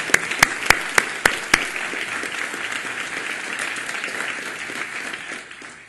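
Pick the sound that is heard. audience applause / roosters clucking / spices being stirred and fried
audience applause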